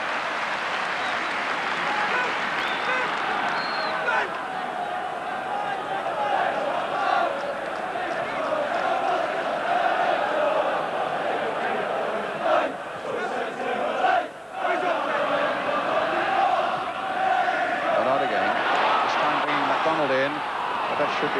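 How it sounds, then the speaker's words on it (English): Football crowd packed behind the goals at Newcastle United versus West Ham in 1986, a dense continuous roar of chanting and shouting that holds steady throughout with a brief dip midway. "It's the crowd behind the goals."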